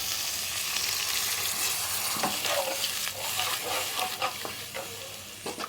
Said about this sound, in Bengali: এগুলো একটু ভালো করে নাড়াচাড়া করে নিয়ে